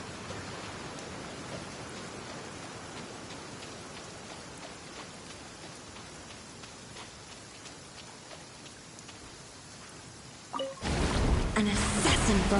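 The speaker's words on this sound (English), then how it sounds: "It always rains when I go on an adventure." Steady, soft rain falls without a break in the fantasy game Genshin Impact, a constant hiss of drops on the ground, before a louder burst of other game sound cuts in near the end.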